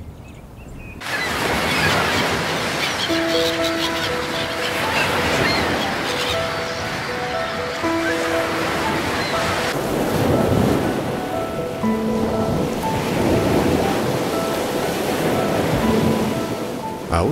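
Ocean waves break at the edge of coral reefs along Australia's Gold Coast, a loud continuous surf roar with repeated surges. Sustained musical tones sit over the water throughout.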